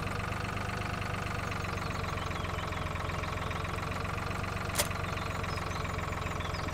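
A lawn mower engine idles steadily in Farming Simulator 2013, a constant low mechanical drone with an even pulse and a single faint click near the end, no voices.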